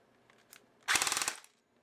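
An upgraded Valken airsoft battle rifle fires a short full-auto burst of about ten rapid, evenly spaced shots, loud and close, after a couple of faint clicks.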